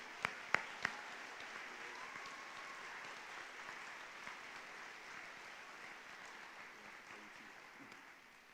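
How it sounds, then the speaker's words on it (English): Faint applause from students and staff at a high school Veterans Day program, a few sharp claps at the start and then a soft, distant patter of clapping that tapers off. "Give him a round of applause, everybody."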